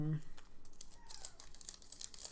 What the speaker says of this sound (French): Donc sectionnons ce booster pour finir la section.